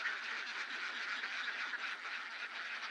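A flock of ducks on a duck farm quacks continuously and close by, a dense overlapping chorus of nasal calls with no voices.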